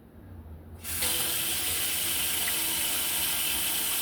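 A household tap starts with a sudden gush and then runs steadily, hot water flowing into a sink after a new Whirlpool water softener install on a dug well in Ontario.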